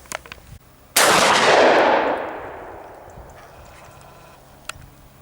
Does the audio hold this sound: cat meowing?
no